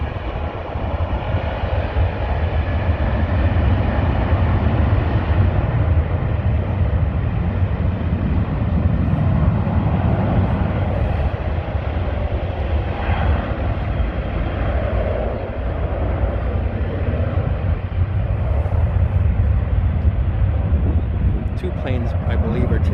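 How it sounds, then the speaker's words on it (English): Airplanes take off from two runways at SFO airport in San Francisco, giving a steady, broad jet roar that swells and holds at a distance for the whole stretch. "Two planes, I believe, are taking off from two different runways."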